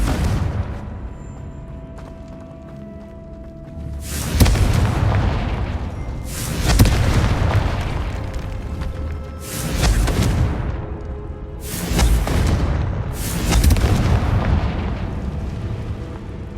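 Confringo blasting spell explosions in Hogwarts Legacy, five heavy booming bursts at irregular intervals, each with a loud rumbling decay, close and dominant with no talk.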